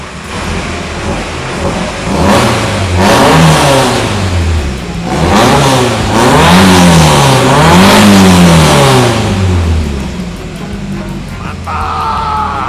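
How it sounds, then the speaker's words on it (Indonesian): A Toyota Starlet race car with no muffler fires up and revs hard several times, the loud, raw engine rising and falling in repeated swoops close by, then dropping back to a rough idle. "Penasaran dengan suara mesinnya kayak gimana nih?"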